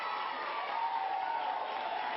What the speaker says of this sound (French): j'aimerais une bonne main d'applaudissements